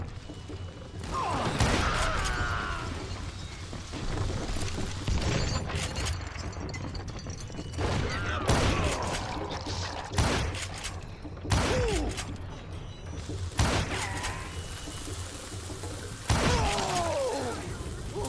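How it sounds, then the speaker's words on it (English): Gunfire and shattering impacts from a Call of Juarez shootout in the Old West, with repeated sharp bursts spread across the whole stretch over a busy game soundscape, some brief whistling effects, and faint voices now and then. "I can shoot too!"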